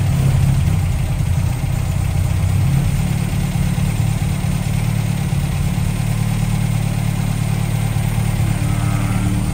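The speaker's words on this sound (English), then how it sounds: "we'll just fire the MGA up here for you, just to show you that it works" A 1956 MGA sports car engine runs at a steady idle close by, a continuous loud low rumble and drone that holds even throughout without revving or voices.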